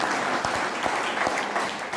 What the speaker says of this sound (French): Applaudissez ensemble encore.